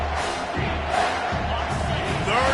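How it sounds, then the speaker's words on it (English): A large college football stadium crowd roars in a continuous, dense wash of cheering and shouting that swells near the end, with commentary talk partly over it. "this crowd is tearing the lid off this place."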